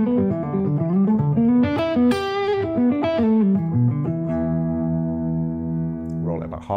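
A Cort Sunset electric guitar played through its neck pickup rings out in a run of notes and then a long sustained chord, with the tone control swept across its range.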